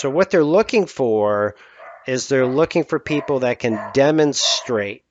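A pet dog barks repeatedly indoors, sharp close yips and bow-wows scattered through a man's continuous speech, which stays loud and clear on top of the barking.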